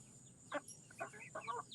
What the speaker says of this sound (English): So we think these three are hens, and that one looks like a rooster.